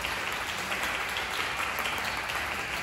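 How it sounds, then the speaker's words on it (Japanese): An audience at a live outdoor sunset concert at Yokosuka Port Market claps steadily and densely, a continuous wash of applause with no talk over it. "もう一度、盛大な拍手をお願いいたします。"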